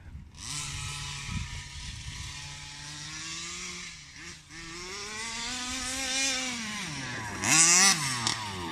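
A Rovan Baja 5b AS1 RC car with a 36cc gas engine buzzes loudly nearby, its pitch rising and falling as the throttle is worked, with a sharper rev burst near the end.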